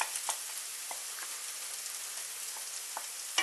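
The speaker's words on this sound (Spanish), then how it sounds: "Damos simplemente unas vueltecitas y le añadimos cebolla" Chopped onion fries with octopus in a pan, giving a faint, steady hiss of sizzling broken by occasional light taps and scrapes of stirring.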